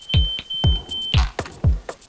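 Close, loud household smoke alarm: a piercing continuous tone with quick rhythmic clicks underneath, the tone cutting off partway while the clicks keep going.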